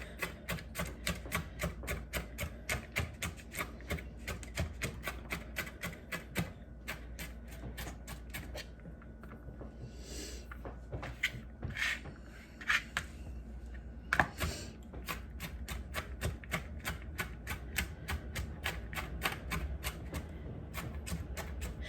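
A knife dices onions on a cutting board for gravy, giving rapid steady chops close by in a fast even rhythm with a few short pauses and some faint kitchen shuffling.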